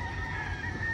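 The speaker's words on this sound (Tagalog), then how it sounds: "Dun yung mga nila, manok. Ayan, dami nilang manok." Chickens on a farm near the sea in Puerto Princesa, Palawan, giving a brief cluster of clucking and crowing calls over outdoor background noise.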